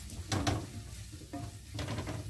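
Bell pepper frying in a pan for bolognese sauce, quiet sizzling with a few bursts of stirring scrapes, close and without talk.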